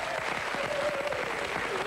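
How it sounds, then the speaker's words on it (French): Studio audience applauding nurses from the Institut Sainte-Anne in Brussels on a television set, a dense, steady wash of clapping at a fairly loud level, with a faint tonal line running through it. "je vous propose d'applaudir et de saluer sur ce plateau, derrière nous, les infirmières de l'Institut Sainte-Anne de Bruxelles"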